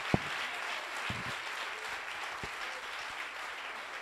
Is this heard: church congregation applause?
yes